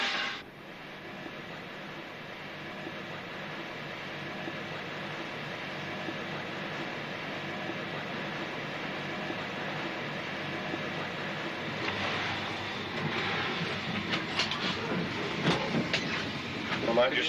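Steady rumble and rattle of a British Rail passenger train travelling from Leeds to London, heard from inside the carriage, with louder clattering near the end and voices talking faintly underneath.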